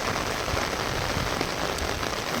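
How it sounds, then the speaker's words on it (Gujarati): Heavy rain pours down steadily and densely, a continuous loud wash of drops striking surfaces with no pauses and no voices. "અને વરસાદ તો બહુ છે,"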